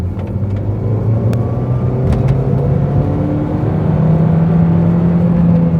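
Old Audi TT with a misfiring engine and warning light on, driving on the road: loud steady engine drone and tyre rumble that rises gradually as it accelerates, no voices.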